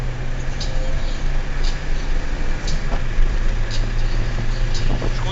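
Peugeot 106 engine pulling at full throttle, heard from inside the car as a steady, loud drone with a constant low hum that holds through the whole stretch.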